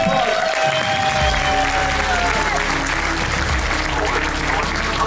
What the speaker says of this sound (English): Oh, here's the applause.